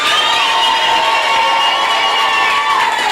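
A church congregation at Word of Faith Church in Buyofu clapping and cheering loudly, a continuous roar of raised voices and shouts with clapping mixed in, close and sustained without pause.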